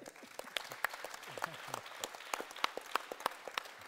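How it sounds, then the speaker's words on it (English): Audience members at a panel discussion give a faint, scattered round of applause, with separate claps distinct from one another at a distance, and talk carrying on underneath. "Give him a round of applause."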